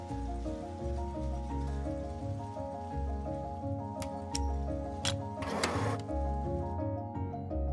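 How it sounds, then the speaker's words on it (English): A yarn winding machine runs in a denim mill, holding a steady mechanical hum with rhythmic clicking and a few sharp ticks and a brief hissing burst near the end. "The machine also monitors the moment when the bobbin reaches the end and needs to be glued to the next bobbin."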